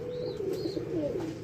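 Breeding pigeons in a loft coo softly in a short, rolling run of low calls, close to the listener, with faint higher chirps behind and rain falling outside.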